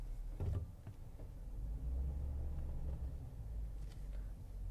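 A 2011 Ford F350 one-ton utility truck with a 6.2 liter gas engine idles and runs steadily, a continuous low rumble close by with a slight swell as it is revved, no voices over it.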